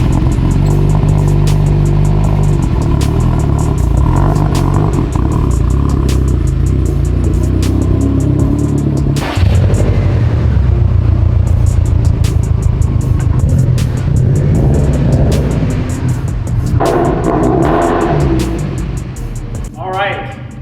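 A freshly built car engine runs steadily on its first drive at night, with a loud, continuous low drone that shifts in pitch as it revs. Someone talks over the engine noise.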